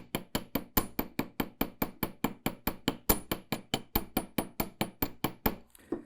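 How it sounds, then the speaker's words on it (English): The ball peen side of a small hammer taps wire to texture a wire-wrapped ring, in a steady, rapid rhythm, more than twenty sharp ringing strikes close by, ending in a faint rustle. "to add the texture, we're going to use the ball peen side of this"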